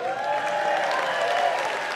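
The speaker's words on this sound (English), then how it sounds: "That's right, a little applause is in order." Audience applause at the opening act of an annual concert, a steady, dense wash of clapping from a crowd that holds at an even level throughout.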